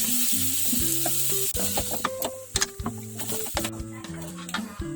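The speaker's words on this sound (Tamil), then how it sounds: "நம்ம இது கூட வறுத்து அரைச்சி வச்ச மசாலா சேர்த்துக்கலாம்" Tomatoes frying with ground roasted masala for Kerala-style chicken sizzle steadily in the pan while a spoon scrapes and stirs in short repeated strokes, loud and close throughout.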